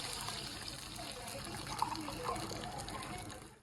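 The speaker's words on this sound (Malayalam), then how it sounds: "വെള്ളം ഒഴിക്കാം കേട്ടോ." Water poured into a cooking pot for rice gives a steady, moderately loud gush with a faint voice underneath.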